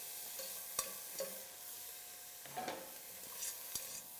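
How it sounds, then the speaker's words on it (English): Diced bacon sizzling in a hot pan, a soft steady frying hiss broken by a few sharp scrapes and clicks as a utensil stirs it, close and without talk. "Move that bacon around and get that going."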